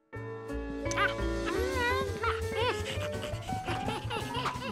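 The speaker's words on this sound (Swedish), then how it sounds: "Tack, det är en hund," Cartoon dog yips, pants and playful barks in a children's animated episode, close and lively over bright background music, with voices chiming in.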